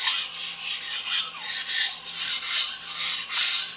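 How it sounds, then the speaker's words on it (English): Antique Dufrense and Co. chef knife scraped back and forth on a 400 grit sharpening stone, a loud rhythmic rasping with about a dozen even strokes, close up and alone. "has the neatest, coolest scraping sound"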